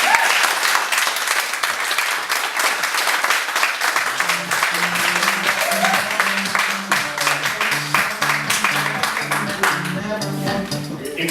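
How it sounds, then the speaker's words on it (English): Audience at a Follow Your Fear Day 2012 talk giving a big round of applause for speaker Chris Marks, steady loud clapping throughout, with intro music joining partway through. "A big round of applause for Chris."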